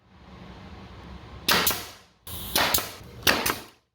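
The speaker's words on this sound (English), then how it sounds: "then nailed them to the mounting blocks with brad nails" Brad nails are driven into walnut desk skirts, heard as three sharp, close bursts about a second apart, each one punchy with a short ringing tail, preceded by a quiet hiss.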